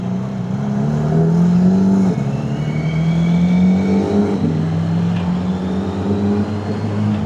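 A car engine rumbles loudly and steadily, its pitch climbing in repeated revs with brief drops between, close by and continuous throughout.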